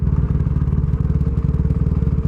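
A KTM Duke motorcycle engine idles close by as it warms up, a loud, steady, throbbing exhaust pulse that continues without a break.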